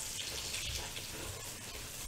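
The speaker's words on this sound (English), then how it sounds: "And we're going to add water as well here." Steady, soft rush of running water pours continuously without a break, fairly quiet and close, with no voices.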